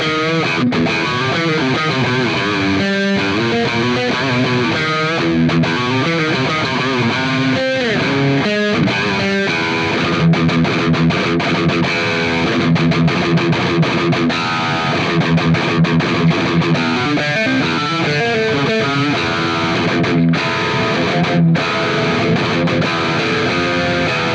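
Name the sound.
electric guitar with gain, split coil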